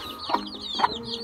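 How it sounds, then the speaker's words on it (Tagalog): Chickens in a backyard coop clucking, two short close clucks about half a second apart with soft background bird noise. "Ating mga manok."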